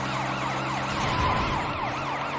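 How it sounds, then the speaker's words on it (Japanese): A wailing police car siren in a video game rises and falls in repeated sweeps, loud and continuous over an engine drone, with no talk. "俺に来てるパトカーじゃないこれ。"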